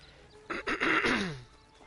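A horse in the Red Dead Redemption Online video game gives one short, breathy whinny that rises and then falls away, close and fairly loud, lasting about a second with no speech.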